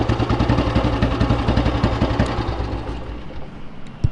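A restored 1983 Royal Enfield motorcycle engine runs close by with a loud, rhythmic thumping idle, steady pulses that soften and fade toward the end as it is shut off.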